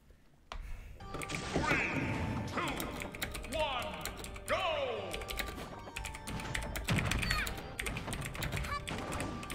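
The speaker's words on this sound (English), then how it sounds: "Hard to type on a keyboard with a wire block in the way." Quick clicks of typing on a computer keyboard, with a wire block in the way of the keys, patter close by. Game sound effects and a voice run over the typing.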